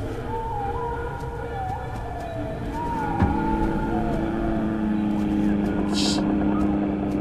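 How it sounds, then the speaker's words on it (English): In the Zoonomaly video game, a monster's growl drones like an old propeller plane: a steady, engine-like rumble with a wavering tone on top. It thickens after a sharp click partway through. "The monster growl sounds like an 80s plane"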